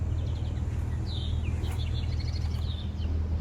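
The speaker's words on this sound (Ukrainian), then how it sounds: "Ви чуєте, як пташки співають?" Several birds chirp and twitter in short bursts over a steady low hum of background noise, fairly faint and outdoors.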